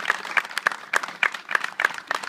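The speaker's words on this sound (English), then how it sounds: "And give yourself a round of applause real quickly." Graduates at a GED commencement ceremony clap briefly, a small group producing uneven, fairly close claps at moderate volume with no talking over them.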